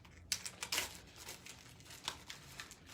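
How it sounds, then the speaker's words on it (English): A plastic bag crinkles close up as an egg, padded with rubber bands, is packed inside, giving quick crackly bursts and soft rustles with no talking. "And lastly, it will go in the plastic bag."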